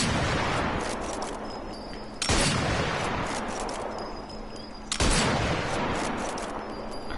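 Carcano M91/41 bolt-action rifle firing in Sniper Elite 4, two loud sharp shots several seconds apart, each followed by a long echoing tail, with no talking.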